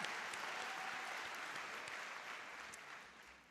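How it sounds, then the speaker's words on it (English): A round of applause from the audience at a 2019 university convocation ceremony, steady dense clapping filling the hall throughout and tapering slightly at the end. "I think we should give our student trustee and former student senate president another round of applause"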